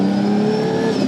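A 700hp sequential-shift Nissan R33 GT-R engine holds a loud, steady, droning note from close inside the car, with its pitch creeping slightly upward for about a second.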